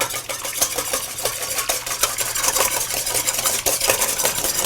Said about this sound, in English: We need a little whisk. We're going to whisk this up.